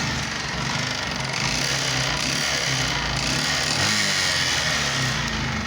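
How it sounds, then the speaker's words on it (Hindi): Bajaj Platina BS6 motorcycle with electric carburettor, running low on oil with a piston noise, idles steadily nearby, a continuous rough low engine drone with a faint rattling texture and no talk. "मैं आपको इसका इंजन साउंड सुनाता हूँ अभी"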